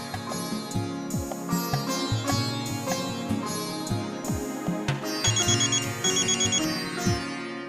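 A melodic phone ringtone plays in a home, a bright repeating electronic tune with chime-like notes that carries on steadily for several seconds, loud and close, with no voices.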